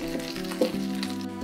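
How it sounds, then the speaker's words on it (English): Diced onion frying in a pan around pieces of lamb for a curry, a steady close sizzle with soft crackles and one brief stir or clink, alone without talk. "We're going to add in a diced onion just around the sides of the lamb. Cook that for about 5 minutes until softened."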